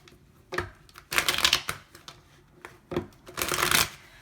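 Cards being shuffled in several quick riffling bursts, crisp and close, separated by short pauses.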